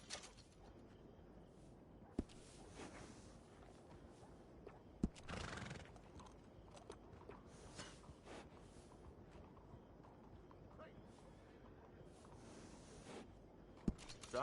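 Horses in the Red Dead Redemption 2 video game whinny and snort while hooves clip-clop at a walk, with occasional sharp clicks over a steady, fairly faint outdoor background.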